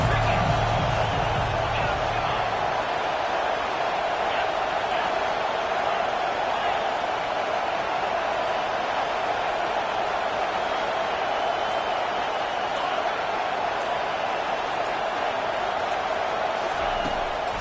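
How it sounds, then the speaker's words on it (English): A college football stadium crowd roars steadily for the defense on third down in a game against UCF, with a commentator talking over the noise. "Decibels rising as the crowd gets behind this defense on third down."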